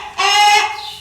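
A chicken on a farm lets out a single loud, close cluck that rises into a brief strained squawk, heard alone without talking.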